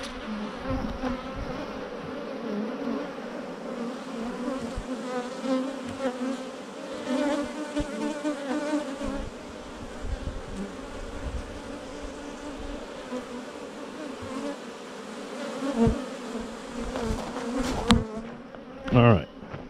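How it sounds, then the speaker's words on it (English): Swarm of feisty honeybees buzzing steadily and close around newly installed hives, a dense continuous drone with passing swells as individual bees fly near, brief handling noises toward the end. "These are very feisty bees."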